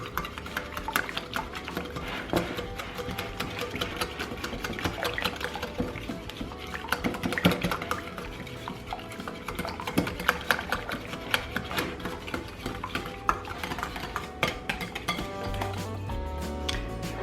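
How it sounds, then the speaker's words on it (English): Three cups of milk and three packs of vanilla instant pudding mix being stirred together in a bowl: steady close clinking and scraping of a utensil against the dish, with a wet sloshing undertone and no talking. "here I have 3 cups of milk and 3 packs of vanilla instant pudding. Just going to mix it all up"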